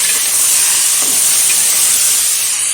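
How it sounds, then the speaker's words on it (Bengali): Washed chicken pieces hit a hot pot of fried potatoes, a loud, steady, close steam hiss and sizzle that holds evenly throughout with no voices. "এখন এর মধ্যে দিয়ে দেবো টুকরো করে রাখা ধুয়ে রাখা চিকেন"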